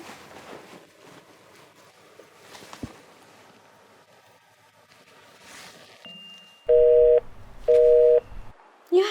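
A phone call fails to connect, sounding two loud, steady electronic tones a few seconds apart, each held about half a second, over faint background hiss with no voices.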